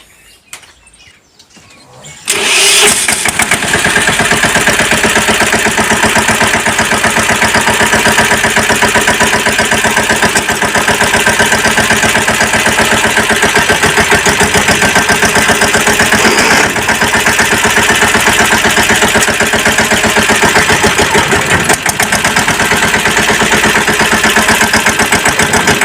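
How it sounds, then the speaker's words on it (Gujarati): A tractor engine starts after a brief quiet opening and then runs steadily at a throttled-up idle on a farm by a thresher, its loud, continuous mechanical drone holding for the rest of the clip with no talk. "હવે હું તમને ટ્રેક્ટર હકાલીને બતાવું"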